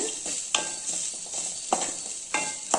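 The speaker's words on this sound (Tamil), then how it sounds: "நல்லா நெய்யில் வறுத்துக்கலாங்க தேங்காவை" Coconut pieces frying in ghee for rice laddu make a steady close sizzle and crackle, with three or four sharp scrapes of a spoon against the pan as they are stirred.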